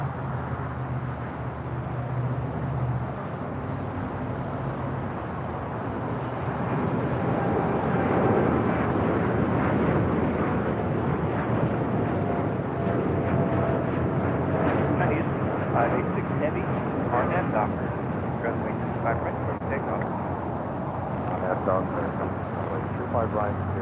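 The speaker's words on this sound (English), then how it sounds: "I got the Air Canada Dreamliner now rolling down. 25 right." Air Canada Boeing 787-8 Dreamliner rolling down runway 25 right at LAX on takeoff, a broad distant jet roar that swells and holds steady, with a voice talking over it.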